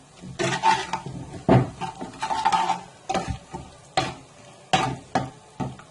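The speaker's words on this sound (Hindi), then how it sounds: "बस 1 मिनट तक हम इसको फ्राई कर लेते हैं।" Spices for kadhi pakora sizzle and fry in a pan as a tempering, with repeated stirring and scraping strokes and metal clinks in an irregular rhythm, close and moderately loud with no talking.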